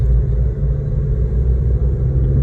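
Ford Mustang GT350 on a race track, a deep, loud continuous engine rumble heard from inside the car at a fairly steady pitch.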